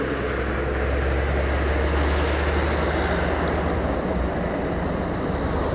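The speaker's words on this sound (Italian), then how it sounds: "gli elicotteri antincendio a far la spola fra il bacino d'acqua della Val Gallina e la cima della Caiada" Firefighting helicopters shuttling over a wildfire between a mountain reservoir and a summit, heard as a loud, steady low rotor and engine roar, constant throughout with no voices.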